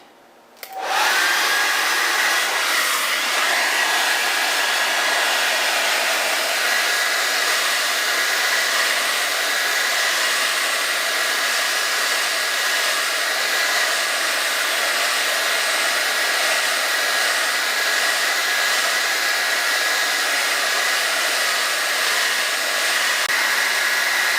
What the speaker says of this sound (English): I will blow dry it to speed up drying process